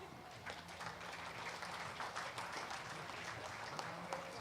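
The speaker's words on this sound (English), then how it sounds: "Let's give them another round of applause." Crowd claps and cheers at a county fair junior beef show, a dense, steady round of applause throughout, faint and somewhat distant.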